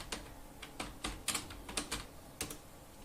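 Someone types on a computer keyboard. A dozen or so quick, close keystrokes fall in an uneven rhythm against a quiet background.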